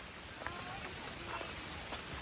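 Rain falling in a forest during mushroom gathering, a steady dense patter of drops on leaves and surfaces, fairly faint and continuous throughout.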